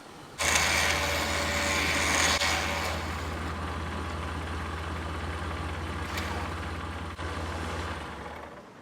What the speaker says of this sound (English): now you can wind in the rest of your rope.